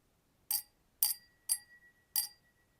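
Four light, bright tings from a vintage glass dish ring out at an even pace, each with a short shimmering decay, in an otherwise quiet room.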